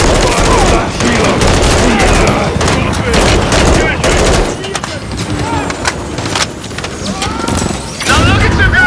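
Sustained heavy machine gun fire aimed at a helicopter in the Call of Duty Modern Warfare 3 campaign, loud dense bursts with booms and clatter, close and continuous, under shouted voices.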